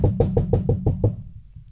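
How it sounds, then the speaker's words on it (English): Someone knocks on wood, seven quick, evenly spaced hollow raps close by, then the sound stops. "knock on wood a billion times"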